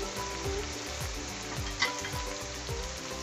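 Fried rice sizzles steadily in a hot pan over a high flame, with a constant frying hiss, faint stirring scrapes and no voices.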